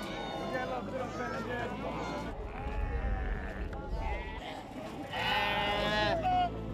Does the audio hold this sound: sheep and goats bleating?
yes